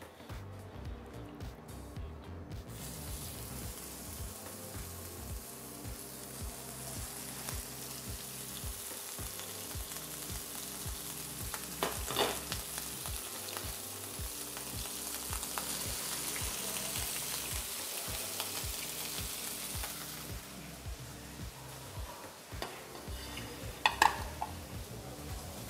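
Beef burger patties sear and brown in a pan, giving a continuous quiet sizzle and crackle with occasional soft scrapes, close by, fairly faint and steady.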